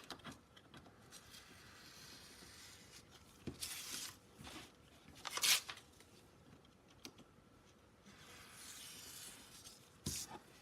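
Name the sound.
cutting a collage panel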